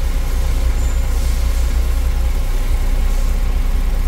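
A Caterpillar 966H wheel loader idles at close range with a loud, steady low diesel rumble that holds even across the whole stretch, and no voices are heard over it.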